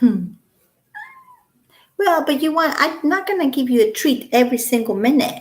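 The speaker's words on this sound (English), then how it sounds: "That's my cat." A pet cat gives a short meow, then a second higher meow after a pause, close and clear, before a person starts talking.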